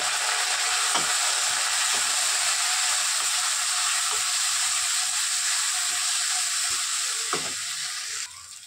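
Spice paste of ground black pepper and cumin sizzles loudly and steadily in a hot pan right after a splash of water goes in, a dense continuous hiss with faint stirring clicks throughout, easing slightly at the end.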